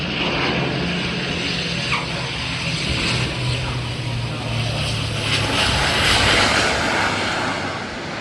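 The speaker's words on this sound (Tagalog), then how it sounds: "Private jet siguro to, no?" A private jet passing overhead outdoors, a loud steady engine roar that swells slightly toward the end, with faint voices nearby.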